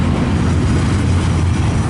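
KCS SD78 diesel locomotive rolling past with steady rumbling and wheel noise, a continuous loud broadband roar with no talking.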